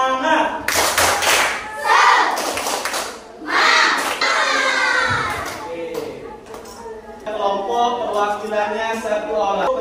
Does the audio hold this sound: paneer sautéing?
no